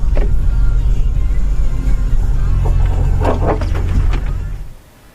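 Pickup truck driving back to a hunting cabin, a steady close engine and road rumble filling the interior before fading out near the end.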